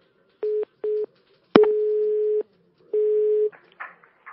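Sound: telephone tone after a call is cut off

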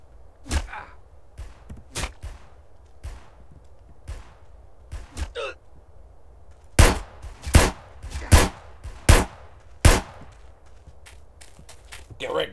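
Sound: gunfire in a video game

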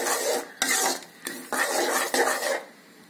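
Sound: stirring cardamom powder into the mixture

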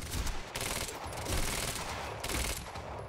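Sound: gunfire from the video game Quantum Break

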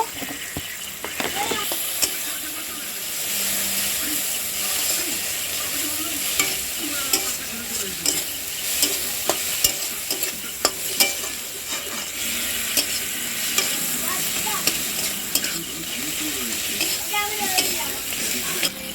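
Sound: stirring chili, cumin and turmeric powder frying in a pan

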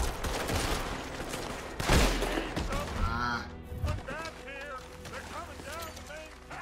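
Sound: gunfire in the video game Red Dead Redemption 2

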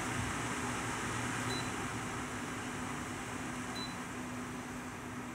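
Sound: Celcia WAP-02EA20 portable air conditioner running on high fan

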